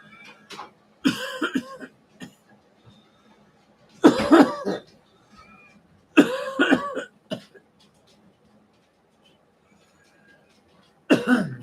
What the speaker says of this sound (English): Still got the coughing, spitting, and sputtering.